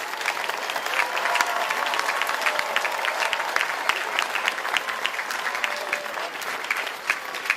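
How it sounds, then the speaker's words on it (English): A crowd applauds at a Seattle naturalization ceremony for new US citizens, with sustained, dense clapping from many hands holding a steady level throughout. "So a round of applause, and soon we'll begin the oath."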